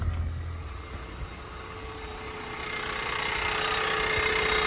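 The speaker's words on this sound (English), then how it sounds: "This engine is so loud." A Ford Maverick engine runs steadily close by, a loud, even mechanical drone with light clicky texture that swells slightly toward the end, with no voices.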